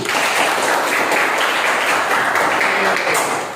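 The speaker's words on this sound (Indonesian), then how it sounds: "tepuk tangan dulu" A classroom group bursting into steady, loud applause that holds evenly for a few seconds without a break.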